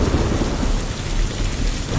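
A thunderstorm with heavy rain pours down in a dense, loud, continuous roar, with low rumbling thunder underneath.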